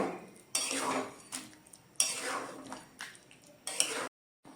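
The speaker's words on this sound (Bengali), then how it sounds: "এবার মাছগুলো দিয়ে দেব। আর একটু নাড়াচাড়া করে নেব।" Pieces of sanker fish being stirred in a cooking pan, a spatula scraping and clinking against the metal in several distinct strokes with short pauses between, close and clear without talk.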